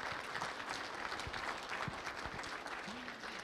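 Faint, steady applause from a crowd at a 2022 State of Seabrook city address, a distant, even patter of many hands continuing throughout with no talk over it.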